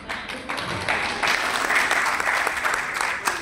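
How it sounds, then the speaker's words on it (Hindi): Audience at a journalism excellence award ceremony in Lucknow applauding, a dense sustained wave of clapping that swells after the first second and stays loud to the end. "आप लोगों ने धीरे धीरे ताली बजा दी"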